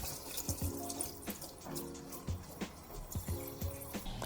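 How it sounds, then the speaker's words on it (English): Cabbage leaves are washed one at a time under a running kitchen tap while the core is held, giving steady flowing water broken by irregular splashes and soft handling knocks. "Hold the core and wash each leaves."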